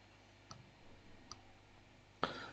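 Computer mouse clicks during an SSIS install in Visual Studio: two faint, sharp single clicks spaced apart, then a louder, crisper click near the end, all against a quiet room.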